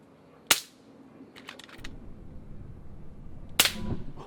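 Two sharp airgun shots ring out during an iguana hunt, one near the start and another about three seconds later, loud and snappy with brief rattling sounds between them and low outdoor rumble throughout.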